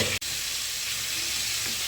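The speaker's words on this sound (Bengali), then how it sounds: "তো চলো, আমটা ভালো করে একটু ভালো করে ভেজে নিই।" Mango pieces frying in a pan for a jaggery mango dish give a steady, close hiss of sizzling, broken only by a split-second gap near the start, with no talking.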